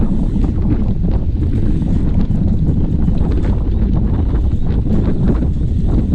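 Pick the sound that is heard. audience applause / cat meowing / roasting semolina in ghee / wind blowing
wind blowing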